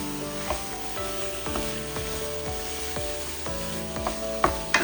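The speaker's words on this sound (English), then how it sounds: "I'm trying to mash the meat out and mix it into the curry paste and the onion." Ground beef being mashed and mixed into curry paste and onion in a hot pan, a soft steady sizzle under repeated spatula scrapes and presses at an uneven rhythm, close up, with no talking.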